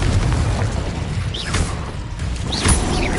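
Confringo explosive spell blasts in Hogwarts Legacy, with heavy booming impacts and bursts of rushing whoosh, loud and close, repeating across a few seconds over dense combat noise.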